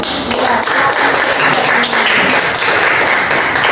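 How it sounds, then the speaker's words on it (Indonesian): A class of pupils applauds in an Indonesian primary classroom, a dense, steady burst of many small hands clapping close by for several seconds without pause. "Iya, tepuk tangan"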